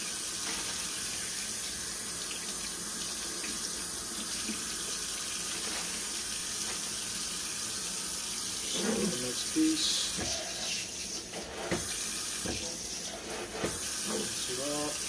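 Tap water runs steadily while fish fillets are rinsed during cleaning, a close, continuous hissing rush with light splashing and handling clatter in the second half.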